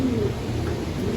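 Young pigeons in an aviary cage give soft, low cooing, a steady murmuring hum with a faint higher tone near the start, continuous and fairly close.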